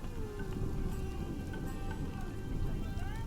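Rain falls in a Planet Zoo park, a steady close patter of drops over a low ambient bed, with faint tonal calls and chirps scattered through it.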